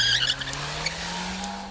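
A car pulls away hard with tires squealing loudly, a steady high screech over a rising engine drone that holds for the whole moment, close and alone.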